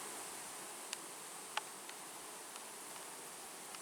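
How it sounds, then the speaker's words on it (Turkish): A faint, steady hum of honeybees inside a hive, heard from among them, with a few soft ticks and taps scattered through it. "şu anda arılar içerisindeyim"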